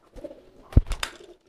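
A male racing pigeon coos loudly and close by, a short throaty burst with a couple of deep rolling notes.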